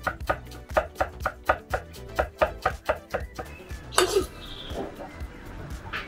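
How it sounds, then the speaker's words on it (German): Chives being finely chopped with a knife on a board: a quick, even run of about a dozen crisp, close taps, then a brief clatter and softer kitchen noise with no talking. "dass ich hier noch ein bisschen Schnittlauch reinschneide"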